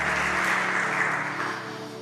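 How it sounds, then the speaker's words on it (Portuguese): Church congregation applauding together during a Portuguese-language worship service, a steady broad wash of clapping that fills the clip at moderate level without a break. "Vamos aplaudir o nosso Senhor, que Ele merece."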